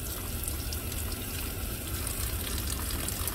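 Running water from a tap rinses soap off a surgical instrument and a cleaning brush at a sink, a steady, close, continuous splashing flow with no talk.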